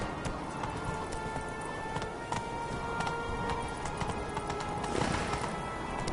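Hooves of Geralt's horse Roach pound in a fast, steady gallop in The Witcher 3, a dense rhythmic clatter over rushing ambient noise, staying close and loud throughout.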